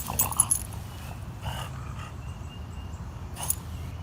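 A dog whimpering softly in a room, a few short high whines and yips at the start and again near the end, faint over a low steady background rumble.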